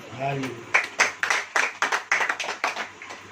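A church congregation claps along during a Hindi sermon, a rapid run of sharp hand claps that rises after an opening stretch of the preacher's voice and carries on at a loud, steady level.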